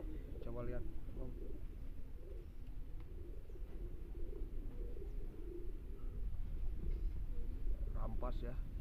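Racing pigeon called Putin, grandchild of Aslan, gives soft cooing calls in a few short bursts, loudest near the start and end, over steady outdoor background noise while people talk.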